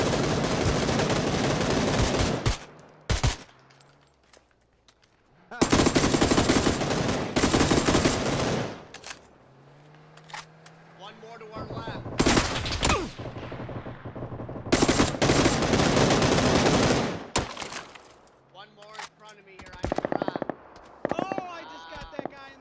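Bursts of machine gun fire crackle in a PUBG match, several long loud volleys separated by gaps, with players talking over and between the shooting.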